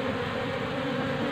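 Honey bees buzz densely around a hive box used for honey farming, a thick, steady drone filling the brief moment at close range with no voices.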